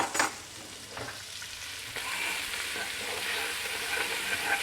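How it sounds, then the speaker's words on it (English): Onion and shallot sizzle steadily in a pan that has just cooked lamb shanks, with a few clear scraping stirs near the start, close and continuous with no talk. "Give it a good stir"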